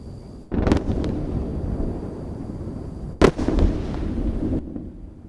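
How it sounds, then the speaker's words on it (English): A SpaceX Starship rocket explodes in Texas just before a test flight, heard as two sharp blasts a few seconds apart followed by rumbling, somewhat distant, with no voices. "An incredible sight in Texas where a SpaceX rocket exploded right before a test flight."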